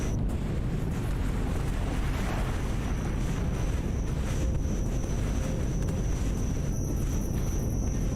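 A continuous low rumbling hum from the engines of a hovering craft in a video game, steady and broadband like wind or a ship's drone, unbroken for the whole stretch, with no voices over it.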